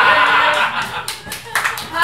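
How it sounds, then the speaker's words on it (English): Audience applause at a town hall meeting, a dense wash of clapping that swells and dips over a couple of seconds, with scattered chuckles and talk mixed in. "Hold your applause, ladies and gentlemen."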